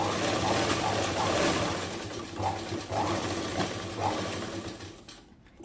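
A sewing machine running continuous stitches along a blouse hook strip, a steady mechanical whirr with slight pulses, close and fairly loud, slowing toward the end.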